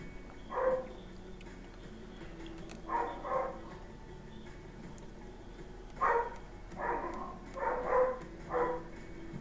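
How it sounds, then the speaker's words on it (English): Dogs barking in a home, several muffled bursts spaced through the stretch, some in quick doubled pairs, sounding somewhat distant and moderately loud over low background hum. "My dogs are going crazy."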